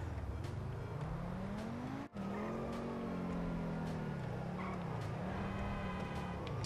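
Modified car engine in GTA 5 Online droning steadily at speed with rising and falling pitch as it shifts, loud and close with no talk.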